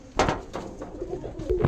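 Pigeons coo in a loft in Rajshahi, a few soft throaty calls repeating in an uneven rhythm, close by and fairly clear, with no talk over them.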